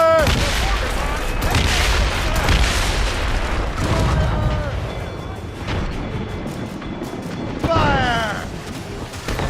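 Ship cannons fire broadside after broadside in the naval combat of Assassin's Creed Rogue, a dense run of booming blasts over a constant rumble, with voices shouting orders between volleys.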